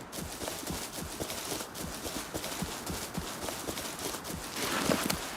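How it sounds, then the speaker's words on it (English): A horse in the survival video game Rust walks with a steady run of clip-clopping hoofbeats at moderate volume. The hooves grow slightly louder near the end, with no talk over them. "And they do have horses."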